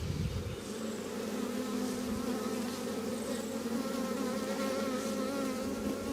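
Honey bees buzzing during a hive inspection, a dense, continuous close-up drone of many insects at low volume with no voices.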